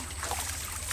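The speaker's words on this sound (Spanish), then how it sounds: "Está corriendo el agua." Water runs from a freshly unblocked spring outdoors, a steady, close gurgling trickle with a continuous hiss and a low rumble beneath it, and no talk over it.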